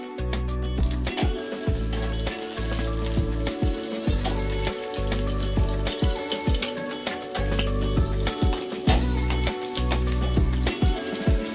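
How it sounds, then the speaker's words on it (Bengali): Garlic and dried chilli fry in hot oil with a steady, close crackling sizzle, dotted with sharper pops and occasional soft stirring scrapes throughout. "তেলটা গরম হয়ে গেলে আমি একটুখানি ওতে রসুন কুচিও দেব"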